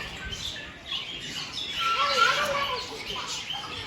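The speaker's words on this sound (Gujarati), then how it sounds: "નાના નાના પોપટ છે અહીંયા જો" Small parrots in an aviary squawk and chirp in short bursts at close range, mixed with people talking nearby.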